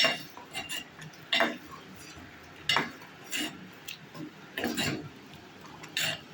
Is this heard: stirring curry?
yes